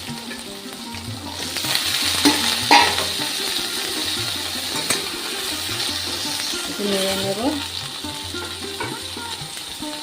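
Steady frying sizzle of potatoes in a pan with occasional stirring clinks, while a voice speaks briefly and softly over it.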